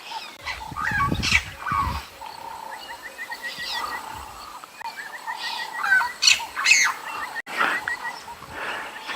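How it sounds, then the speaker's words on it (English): Burchell's starling calls and chirps ring out at a moderate distance over a steady outdoor safari background at sunrise, with repeated short whistled notes scattered throughout. "the birds you hear calling in the background, those are birch starlings"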